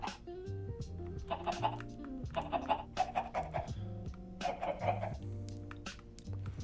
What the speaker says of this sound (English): Chickens on the balcony, which I always thought was kind of weird.